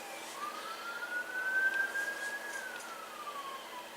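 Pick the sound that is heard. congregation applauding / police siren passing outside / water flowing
police siren passing outside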